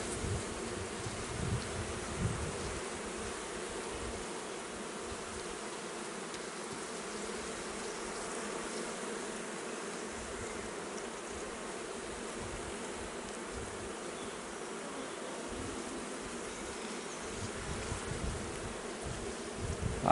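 Honey bees, many laden with pollen, buzz around an open beehive during a hive inspection: a dense, steady, close-up hum that continues without a break and with no voices.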